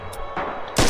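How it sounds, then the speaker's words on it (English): Sharp, loud blasts in the World War II shooter Red Orchestra 2, a grenade explosion among close gunfire bursts, with three quick hits in under a second and the last one strongest. "That was a grenade."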